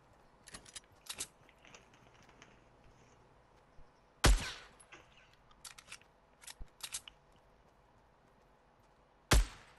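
Sharp, sparse gunshots in the Fortnite video game, a few clustered cracks and two loud isolated blasts, with quiet clicks between.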